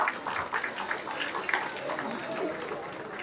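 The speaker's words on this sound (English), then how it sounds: "applaud please, where are the applause?" Audience applause at a college convocation ceremony in Kolkata, a steady wash of many hands clapping at moderate distance, with some voices mixed in.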